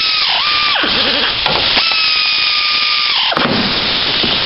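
A power tool whirs in short, loud bursts with changing pitch, spinning up, holding, then winding down as a part is tightened, close up with no speech.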